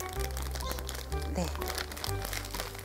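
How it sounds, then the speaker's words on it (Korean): A plastic bag crinkles around a wet paper towel as someone speaks over it, with intermittent rustling throughout. "그래서 비닐 주머니에 넣어서"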